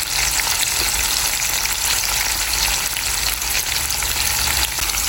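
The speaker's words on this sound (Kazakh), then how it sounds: "Қызып тұрған майға туралған болгарскилерімізді салып, жақсылап қуырып аламыз." Steady, loud sizzling of chopped bell peppers frying in hot oil, a dense continuous crackle with no voices.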